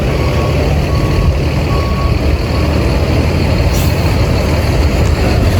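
A Hilton tour bus reversing out to a parking position, a loud steady diesel engine rumble with a faint intermittent reversing beep, heard from inside close to the engine.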